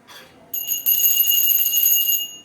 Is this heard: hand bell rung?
yes